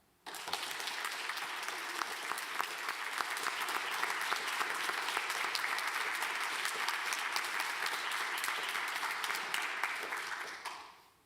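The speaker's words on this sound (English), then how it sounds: "Please join me in giving them a huge round of applause demonstrating our appreciation to them" Audience at a Grade 8 closing ceremony gives teachers a long round of applause. Dense, sustained clapping from many people runs evenly for about ten seconds, then fades out quickly.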